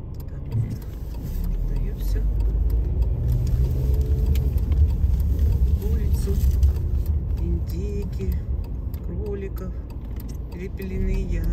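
A car drives along a city street in Shymkent, with a steady engine rumble and road noise heard from inside the vehicle while people talk over it.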